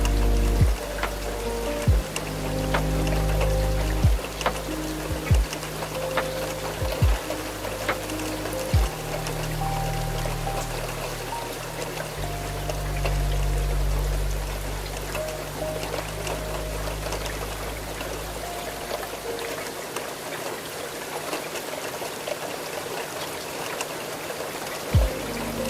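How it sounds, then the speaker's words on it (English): Heavy rain drums on the glass of a night train crossing the Scottish Highlands, a dense continuous wash of water with occasional sharper taps and a low rumbling undertone that holds steady throughout. "the sound of rain that has accompanied every mile of this journey and accompanies you still"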